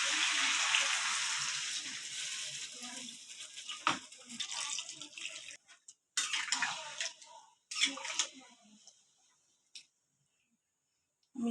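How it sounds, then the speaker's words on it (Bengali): Water pours and splashes into a pot of Bengali chicken jhol (chicken curry) after the spices have been fried down, a bubbly rush that breaks into several bursts and trails off into quiet. "এবার আমি জলটা দিয়ে দেবো পরিমাণ মতো।"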